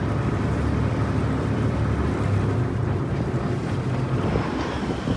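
Steady wind buffets a camera microphone aboard a river ferry boat in Bangkok, a continuous loud low rumble with water and engine wash underneath, no talking.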